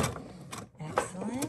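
Sewing machine stitching the brim of a quilted witch's hat, short mechanical whirring bursts broken by a brief pause, fairly quiet and close.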